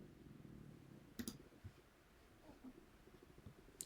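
A computer mouse clicks a couple of times, quiet and close, with soft handling noise between the clicks in an otherwise hushed room.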